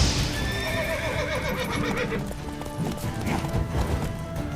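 Horses in the video game The Witcher 3 gallop with rapid clip-clopping hooves while one lets out a loud, shrill whinny, all up close and busy.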